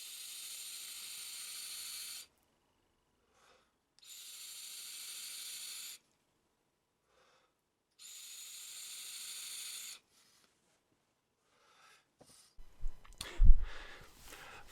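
An Aspire ESP30W e-cigarette set to 30 watts with its airflow fully open gives three separate hissing, crackling draws of about two seconds each, with silent pauses between them, followed by a few faint clicks and a louder thump and rattle at the end.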